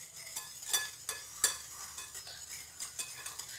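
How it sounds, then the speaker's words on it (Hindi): Cupcake batter with sugar being stirred in a bowl, soft rhythmic spoon scrapes and light clinks against the bowl, quiet and close, with no talking. "और शुगर ऐड कर देंगे। इन तमाम चीज़ों को मैं अच्छी तरह से मिक्स कर लूँगी।"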